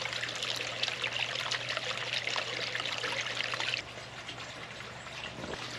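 Water trickling steadily in a backyard water feature, a continuous close splashing babble that drops to a softer, quieter flow partway through, with no voices.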